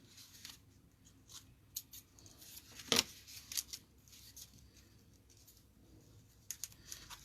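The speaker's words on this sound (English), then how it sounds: "I'm going to grab my, I call them scissors for ribbon." Quiet snips and crisp clicks of scissors cutting ribbon, with one sharper cut standing out, against a soft background hush.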